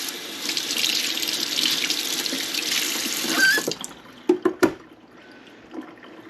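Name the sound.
washing hands under a running tap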